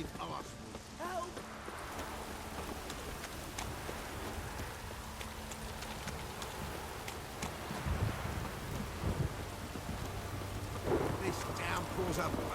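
Steady heavy rain pours throughout with occasional low rumbles in The Witcher 3: Wild Hunt, while character voices speak intermittently over the downpour.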